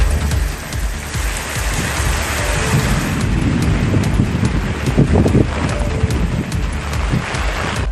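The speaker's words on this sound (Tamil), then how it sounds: "தூத்துக்குடி மாவட்டம் கோவில்பட்டியில் ஆலங்கட்டி மழை பெய்தது." Heavy rain with hail pounds down steadily during a strong, windy storm in Kovilpatti, Thoothukudi district, Tamil Nadu, a dense, loud roar of drops and scattered hard impacts continuing throughout with no voices.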